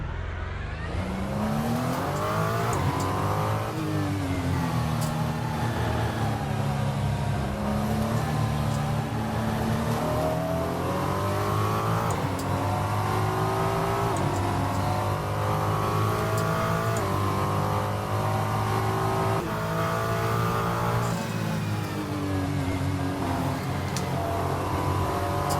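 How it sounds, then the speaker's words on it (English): A Ferrucci 296 GT3 (2023) twin-turbo V6 racing car in Assetto Corsa, its engine droning and revving steadily through gear changes for over twenty seconds with no talk, loud and continuous. "I think it's a twin turbo V6 in the back of this"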